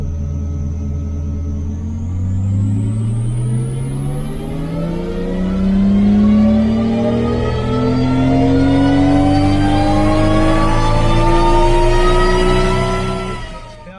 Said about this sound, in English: All right, full throttle.